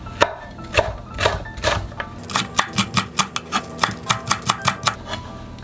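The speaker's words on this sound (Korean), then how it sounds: "청양고추 2개도 잘라주는데요" A knife chops two cheongyang chili peppers on a cutting board, first in a few scattered cuts and then in a quick, steady run of sharp taps, close and clear.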